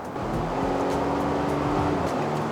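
A Volvo XC90 T8 hybrid accelerates to pass a Genesis GV80, with a steady engine and road drone heard from inside the cabin and a subtly rising tone, continuous and moderately loud.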